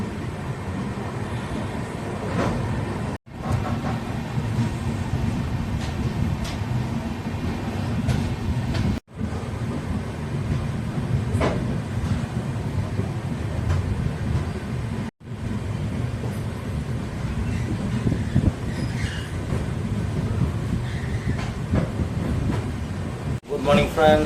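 Coimbatore–Rameswaram Express running after leaving a junction station, a steady loud rumble of wheels and carriage noise throughout, with a few brief drops, and a voice faintly present beneath it.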